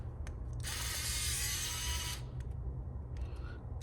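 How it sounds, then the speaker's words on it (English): A small power drill spins on the tiny screws of an LG Velvet 5G phone during a screen replacement, one close, high whirring burst lasting about a second and a half, followed by faint clicks in a quiet room. "I'm gonna go ahead and use this little drill that I use for Samsung and LGs"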